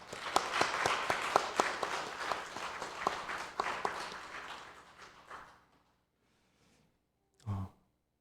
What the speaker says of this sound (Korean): 하나님께 영광의 박수를 드릴까요?